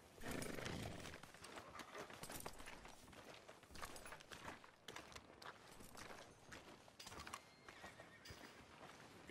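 In Red Dead Redemption 2, a horse whinnies loudly near the start, followed by steady clip-clop hoofbeats and further neighing against a busy game soundscape.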